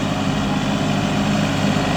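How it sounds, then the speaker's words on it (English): A tractor engine runs steadily while spreading topsoil on a grass runway, a continuous mid-to-low droning hum at moderate distance with no pauses. "Tim's on the tractor"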